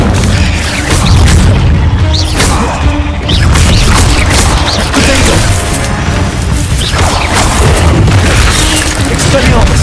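Repeated Incendio fire spells cast in Hogwarts Legacy, loud whooshing bursts and crashing impacts over a continuous roaring battle din, with a voice speaking over the action.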